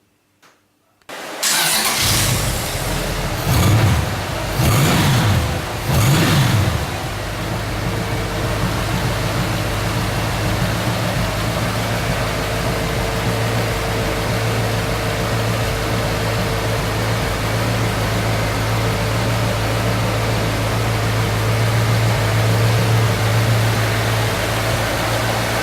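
A V8-engined cafe racer style motorcycle with three exhaust pipes cranks and fires up, revs a few times, then settles into a loud, steady, rumbling idle that runs on at length.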